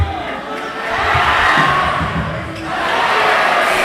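Steady roar of a high school basketball crowd in a gym during free throws at a Landon versus Georgetown Prep game, loud and continuous with swelling shouts and jeers, no clear single voice.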